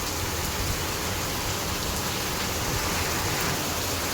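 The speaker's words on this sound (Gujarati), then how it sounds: "જો વહીતો હો મિત્રો, ફૂલ વહીતો વરસાદ." Heavy monsoon rain pours down steadily in Morbi, Gujarat, a dense, continuous hiss with no breaks, loud and close, with no voices.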